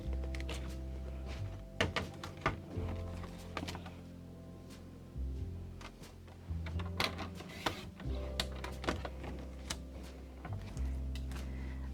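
A paper trimmer slices a mat layer for a 6 by 8 inch tent fold card, with sharp rhythmic clicks and thunks of the blade and board repeating up close in a quiet room.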